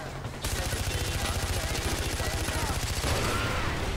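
Sustained rapid automatic gunfire from a gun fired out of a vehicle in Far Cry 4, loud and continuous with evenly pulsing shots after a brief quiet start, under faint voices.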